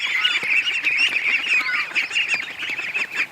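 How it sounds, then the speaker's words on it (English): A group of ducklings calling constantly as they are let out, many overlapping high-pitched peeping quacks packed densely together, loud and close. "Okay, come on out, ducks."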